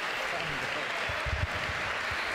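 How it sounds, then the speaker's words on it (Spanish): Applause from participants at an international coaching clinic in Cantanhede, a steady clatter of clapping mixed with voices talking over it throughout. "Un aplauso."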